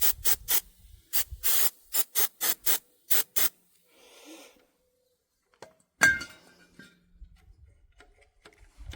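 Short hissing bursts from an aerosol lubricant can sprayed onto an old Lister engine, about a dozen quick squirts in a row, then a clunk and some light handling noises.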